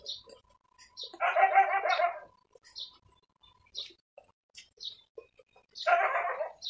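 A small pet dog barks in short bursts of rapid yaps, two loud rolls of barking separated by quieter gaps, with sparse bird chirps scattered around them.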